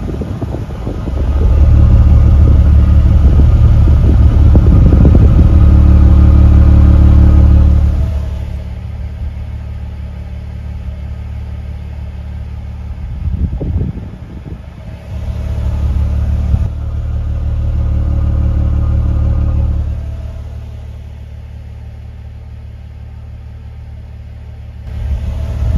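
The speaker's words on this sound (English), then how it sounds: "going to test the exhaust to show how clean the engine's running" Mercedes SL350 R230 engine idling at the exhaust, a loud steady rumble that swells as it is revved briefly twice, then settles back to idle, with no talk.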